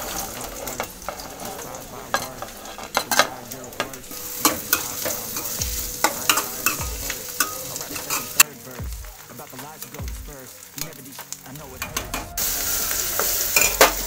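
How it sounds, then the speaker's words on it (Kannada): Onion dropped into hot oil for rajma masala fries with a steady loud sizzle, broken by frequent scraping, stirring and utensil clatter from close by. "ಎಣ್ಣೆ ಬಿಸಿ ಆಯಿತು, ನೀರುಳ್ಳಿ ಹಾಕ್ತೇನೆ"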